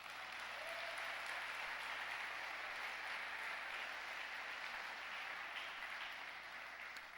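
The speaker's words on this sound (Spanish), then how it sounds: "Dale un fuerte aplauso al Señor." Church congregation applauding during a Spanish-language service: steady, continuous clapping from a large crowd, even in level and heard at some distance, lasting the whole span without a break.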